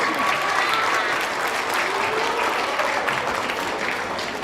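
Sustained audience applause fills a school auditorium after a middle school choral and band concert, a dense, even wash of clapping from a large crowd that holds steady and fades slightly at the end.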